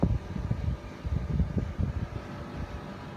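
A Carrier split-type air conditioner runs in a resort room, giving a steady fan-like whoosh with a low uneven rumble close by and no voices.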